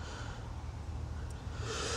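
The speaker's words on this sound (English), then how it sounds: "I'm about to sneeze." A person in a garage working on a 1973 VW Beetle lets out a breathy, snorting sneeze near the end, with rough nasal breath noise before it and steady low background hum.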